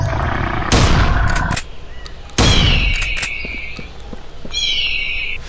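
Two loud gunshots from the Dinosaur Hunter Jungle Safari mobile game ring out with booming tails, about a second and a half apart, amid steady jungle ambience and game effects.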